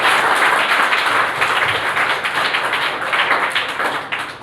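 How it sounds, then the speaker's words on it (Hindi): An audience applauds together in a dense, steady wash of clapping that holds loud for several seconds, then begins to thin at the end. "और एक बार मैं चाहूँगा कि ज़ोरदार उनके लिए वापस से तालियां हो जाए।"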